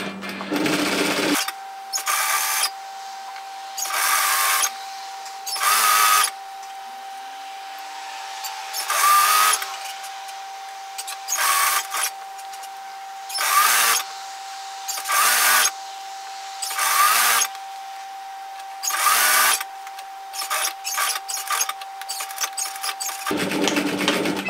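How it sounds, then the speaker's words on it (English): A sewing machine sews a seam through sheer fabric in a series of short, loud bursts, with a faint steady hum running underneath between the stitching runs. "try and sew a really straight line directly through your overlocking"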